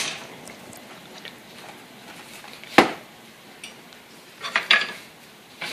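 Pasta boiling in a pot on a stovetop set to high, stirred with a utensil: quiet scraping and swishing, one sharp metallic knock against the pot, then a few more clinks of metal.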